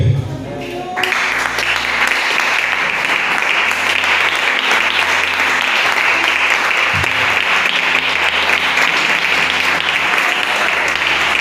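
A Sunday church congregation breaks into loud, sustained applause acclaiming the Lord, a thick, continuous roar of clapping over low sustained musical tones, with a few voices faintly woven through.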